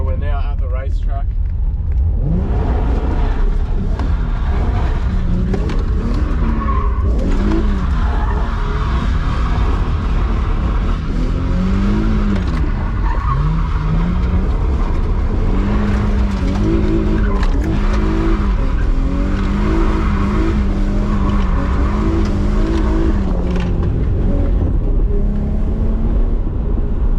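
A Nissan G35 fitted with a NISMO differential drifts around a racetrack, its engine loud and revving in rising and falling sweeps. Tire squeal and skidding run throughout, with voices talking over it.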